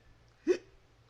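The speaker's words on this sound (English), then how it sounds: "Oh no, I got the hiccups." A cartoon character gives a single sharp hiccup, close and clear against a quiet background.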